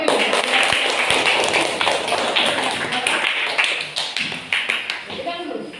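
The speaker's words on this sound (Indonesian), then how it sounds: "Oke, tepuk tangan dulu nih." A classroom group claps hands together in a dense, loud round of applause that keeps going and thins toward the end, with voices mixed in.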